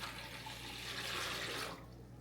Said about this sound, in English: So we'll put our water mixture in.